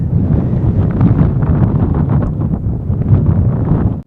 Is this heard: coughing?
no